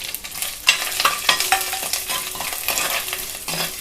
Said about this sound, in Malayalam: ഈ തേങ്ങ ഒരുപാട് ബ്രൗൺ കളറൊന്നും ആകണ്ട, ചെറുതായിട്ടൊന്ന് മൂത്ത് വന്നാൽ മതി.